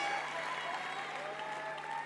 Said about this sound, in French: Vous pouvez applaudir aussi.